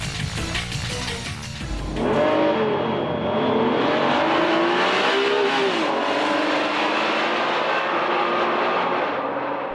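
A Honda NSX-R sports car with a high-revving engine drives a country road, its engine note loud and close, climbing through the revs after a shift, with no talking.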